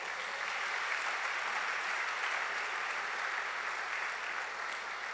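Church congregation applauding the Lord during a service, an even, unbroken wash of many hands clapping at moderate distance, steady in level from start to finish with no talk over it.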